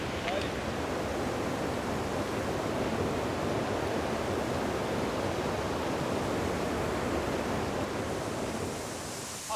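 Water pouring into an underground cave river from several inlets, a steady, loud, roaring rush that fills the space evenly, with a faint murmur of voices underneath.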